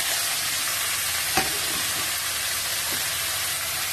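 Tomato pieces, coriander and green chilli fry in a pan for chutney, giving a steady, close sizzle that runs unbroken throughout with a faint clink near the middle.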